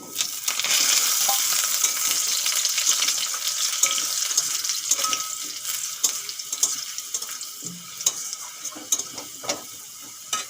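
Fried potatoes tumble into a pan of garlic fried until reddish, setting off a steady close sizzle of hot oil with scattered scraping and stirring clicks, no voices.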